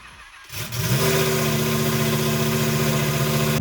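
A twin turbo Lamborghini Huracan Performante engine cranks and fires up with a brief rev, then settles into a loud, steady, throaty idle close by.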